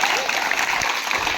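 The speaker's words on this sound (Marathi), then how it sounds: "त्यांच्यासाठी जोरदार टाळ्या वाजवायच्या." Children and audience clapping for second-grade science quiz winners, a steady dense wash of applause filling the whole short stretch at moderate loudness.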